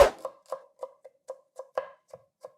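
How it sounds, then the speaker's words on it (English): A knife chopping red onion on a board: about ten crisp, evenly spaced chops in quick succession, close and clear with nothing else heard. "I'm gonna chop the onion in small pieces and mince the garlic."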